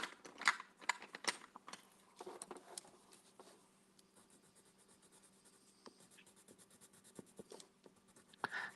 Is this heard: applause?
no